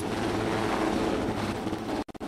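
A helicopter flies nearby with a steady, loud whirring drone of rotor and engine that holds evenly before cutting off abruptly in choppy gaps at the end.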